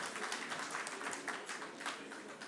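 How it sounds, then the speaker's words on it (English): Audience applause at an Africa Day session during a signing ceremony, a short spell of fairly faint scattered clapping in a hall, lasting about two seconds. "Yes, a round of applause."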